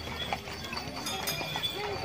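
Hooves of a horse pulling a sado cart at Gundaling, Berastagi, North Sumatra clip-clop at a walk in a quiet, even rhythm, with faint background murmur.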